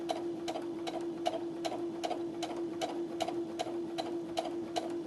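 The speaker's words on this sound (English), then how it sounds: "it stitches it in place nice and tight up against the cord there" Brother sewing machine with a narrow zipper foot stitching piping cord into fabric, a steady, rapid mechanical ticking of evenly spaced stitches over a constant motor hum, close and alone with no talking.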